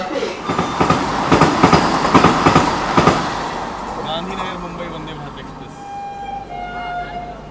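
The Rajdhani Express pulls out of Vasai Road station with rhythmic clickety-clack and rumbling for a few seconds, then fades to a lower hum with faint squeals as people talk.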